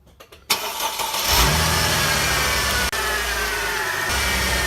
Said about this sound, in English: Turn the engine on please.